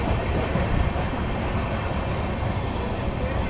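The Gyaneshwari Express running on rails, a continuous loud rumble and rattle of railcars that fills the whole stretch, heard from on board or close by.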